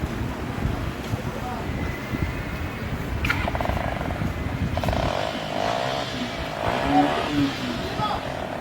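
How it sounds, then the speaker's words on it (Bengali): A Suzuki motorcycle fitted with a modified silencer idles nearby with a steady, purring low rumble. Wind buffets the microphone and a voice briefly speaks over it. "আপনার গাড়িটা একটু স্টার্ট দেন তো।"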